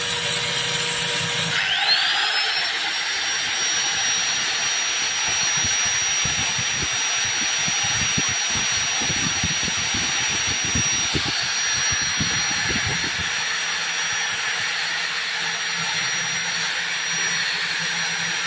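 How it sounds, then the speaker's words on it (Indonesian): An electric angle grinder runs on a household supply, starting up with a rising whine that settles into a steady, loud, continuous high-pitched drone for over fifteen seconds, close by with no talk. "Sekarang gerinda."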